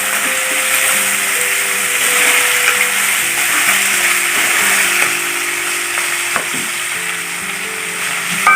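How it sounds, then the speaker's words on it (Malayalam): Onions frying in a kadai pan, a steady loud sizzle with stirring scrapes throughout, accompanied by faint tonal background music. "നന്നായി ഒന്ന് ഇളക്കിയിട്ട് മൂടിയിടാം"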